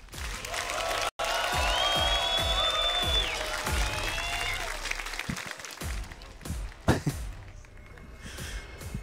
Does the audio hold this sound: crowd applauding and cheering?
yes